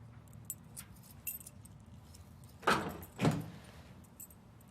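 A set of office keys jangles in two quick bursts of metallic rattling over a low steady room hum, with faint scattered clinks before them.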